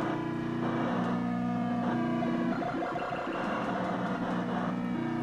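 Engine drones of rival cars approaching in the NES racer Rad Racer, steady buzzing tones that hold throughout and shift pitch slightly as they draw near.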